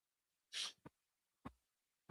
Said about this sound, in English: May have to sneeze here.